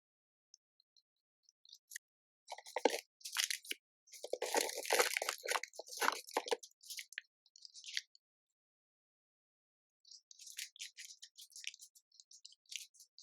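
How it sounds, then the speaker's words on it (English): Close, crisp crunching from chewing a snack in bursts, with quiet pauses between bites and a softer flurry of crunches at the end. "I thought this be like soft and chewy, but it is crunchy."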